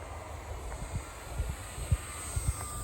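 A small radio-controlled model plane fitted with skis, heard from a distance as a faint, steady motor drone with a continuous high whine over a low rumble and small thumps.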